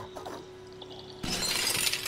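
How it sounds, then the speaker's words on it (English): Glass breaks in the video game Stray after something is dropped onto it: a sudden loud shatter cuts in after a quiet lead-in, followed by a sustained bright crunch of falling shards. "I think we need to drop something on the glass."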